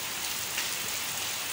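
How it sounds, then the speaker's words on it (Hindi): Sudden rain pours down outside, a steady broadband hiss of drops hitting surfaces that holds evenly throughout, with no voices. "अचानक बारिश हुई है"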